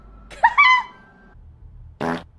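A short, sharp squeaky fart rises in pitch, followed by a brief low burst, both close and fairly loud in an otherwise quiet room.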